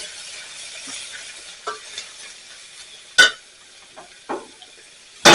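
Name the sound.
garlic added to a hot pan, sizzling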